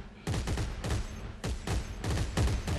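Rapid bursts of gunfire from the Dead Space 3 video game, close and loud, with repeated volleys separated by brief pauses over a few seconds.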